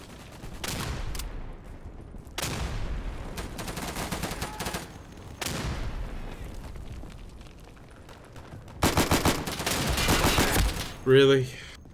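Gunfire rings out in the World War II shooter game Day of Infamy: several bursts of slow, heavy rifle and machine-gun fire with booming echoes, moderately loud, broken by pauses and a man's occasional speech.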